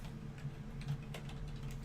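Keys clatter faintly on a new computer keyboard, a few soft, irregular taps over a steady low hum.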